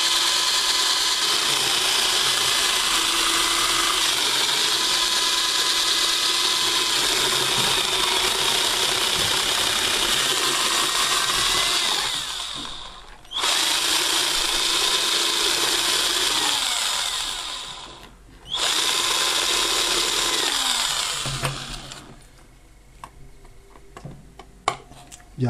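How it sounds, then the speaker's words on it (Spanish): A cutter and drill bit trim a plastic enclosure for an ESR meter component tester, producing a loud, continuous grinding whine that stops twice for brief gaps before tapering into softer scraping and small clicks. "retocaremos un poco con el cúter y con la broca y adaptaremos"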